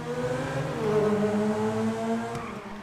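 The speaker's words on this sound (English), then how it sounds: "here's a little tunnel run to show the nice noise the acceleration makes" A car in GTA Online accelerates through a tunnel, its engine droning steadily and climbing gradually in pitch, close and loud, with a brief knock near the end.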